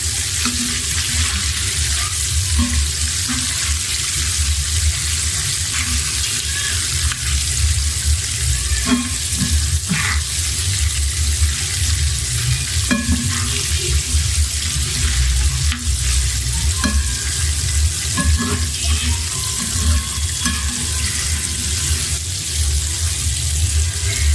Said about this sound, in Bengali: দিয়ে দিচ্ছি এবার মাংস বাজলে আস্তে আস্তে বাজ না বাজলে মাংসটা সফট হয় না ভিতরে শক্ত থেকে যায়